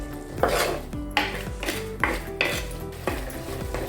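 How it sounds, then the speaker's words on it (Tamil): Poori masala gravy sautéing in a pan with a splash of water, a spatula scraping and knocking against the metal in a steady series of clanks over a low sizzle, with no voices. "லைட்டாக தண்ணி விட்டு வதக்குங்க."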